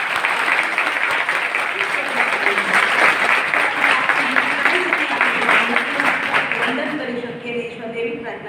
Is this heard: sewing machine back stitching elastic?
no